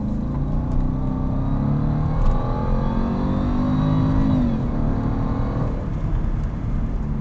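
A 2011 Jaguar XJL Supersport, a 17-foot luxury sedan, accelerates hard from inside the cabin. The engine drone rises steadily in pitch, shifts down, then climbs again, loud and continuous.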